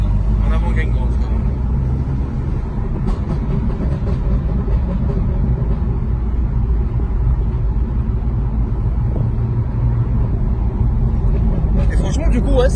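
BMW M2 car driving with M2 mode engaged and assists disabled, a steady loud low engine drone heard from inside the cabin, with people talking over it.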